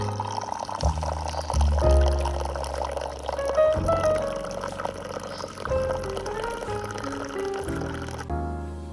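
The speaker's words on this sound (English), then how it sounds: "This is almond milk creamer, and we're gonna use this for my tea." Almond milk creamer being poured into tea, a gurgling stream of liquid rising in pitch as the cup fills, close and moderately loud, with brief pauses and no voices.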